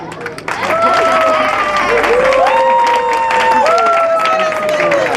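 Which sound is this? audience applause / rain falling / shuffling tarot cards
audience applause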